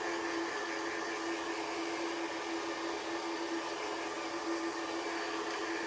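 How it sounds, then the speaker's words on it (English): A hair dryer blows steadily on a Halloween gnome and fall truck craft project, a constant close airy whoosh with a fixed whine, running alone without pause for the whole stretch. "you can sit here and just blow dry it and finish it up"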